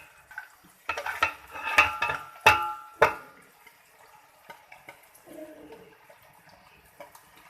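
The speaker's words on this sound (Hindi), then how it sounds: "अब हम ये वेजिटेबल्स डाल रहे हैं इसके अंदर" Vegetables tossed into a hot pan over chicken for chicken chow mein: a few close clattering, rattling bursts as they land and are stirred, then softer scraping and a faint sizzle.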